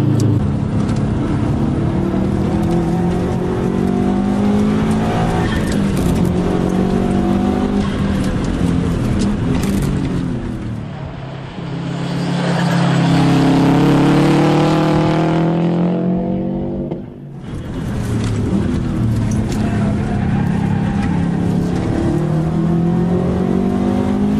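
A race car on Toyo Proxes R888 tyres laps Oran Park circuit. The engine roars loud and close, revving up and down through gear changes, briefly easing off before accelerating hard again.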